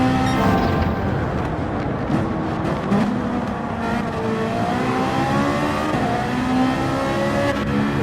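Race car engines in the Gran Turismo 7 video game roar continuously, with rising and falling revs as cars battle and overtake, loud and close with no talking.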